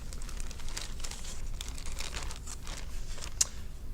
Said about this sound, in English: We're going to put the project in a bag